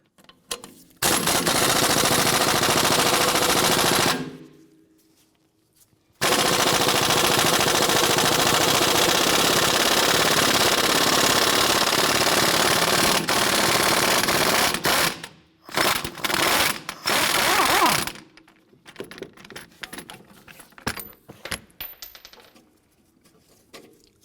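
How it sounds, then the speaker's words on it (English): A 14mm socket on a ratchet or impact tool backs out the upper clevis fork bolt on a 2004-2008 Acura TL front suspension. Two long, loud, sustained bursts of rapid rattling are followed by shorter choppy spurts and quieter clicks and handling noise. "Using a 14mm socket, I'm going to go ahead and remove our upper clevis fork bolt here."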